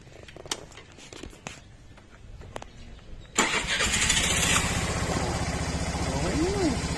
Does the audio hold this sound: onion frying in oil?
no